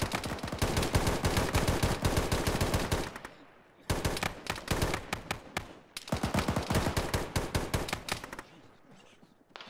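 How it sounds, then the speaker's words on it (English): Rapid automatic gunfire rattles through a military video game in three long bursts separated by short pauses, loud and close, each burst a dense string of sharp cracks before tailing off. "Somebody shooting."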